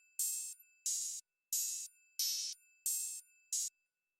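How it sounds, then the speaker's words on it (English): Open hi-hat and triangle programmed together in a hoodtrap beat, six bright, ringing metallic hits in a steady pattern, each sustaining briefly before being choked, heard alone and fairly quiet. "Next we have the open hat and a triangle."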